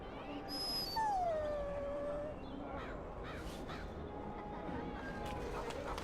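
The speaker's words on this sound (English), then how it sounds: "Puppy!" A puppy howls and whimpers in Dragon Age: Origins, a long, falling high-pitched howl followed by softer whines and yelps over low background ambience.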